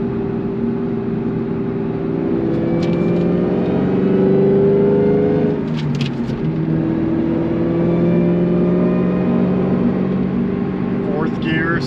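An 800HP Cobra pulls in third gear at around 40 and 2,500 rpm, its engine a loud, steady droning hum heard from inside the cabin, swelling slightly midway, with a voice speaking over it.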